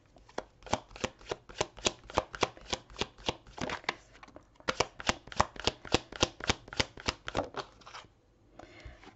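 Tarot cards are shuffled and drawn by hand, making a fast, even run of crisp riffling flicks close by. There is a short pause near the end and no talking.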